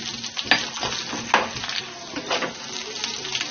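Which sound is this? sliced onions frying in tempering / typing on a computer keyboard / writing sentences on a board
sliced onions frying in tempering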